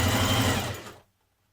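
A sewing machine stitches down the upper sleeve edge of a top, a close, steady mechanical whir lasting about a second before cutting off to silence.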